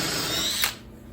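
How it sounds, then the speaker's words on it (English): Power drill running steadily as it bores a test hole through a board for a closet organizer shaft, a loud continuous whine that cuts off sharply near the end as the bit breaks through and the motor spins down. "In fact, I'm going to drill a test hole"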